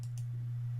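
A computer mouse clicked twice in quick succession to finish a software setup step, giving two tiny, crisp ticks over a constant low electrical hum.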